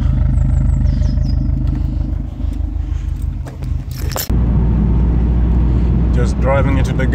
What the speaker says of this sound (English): Just driving into the garage now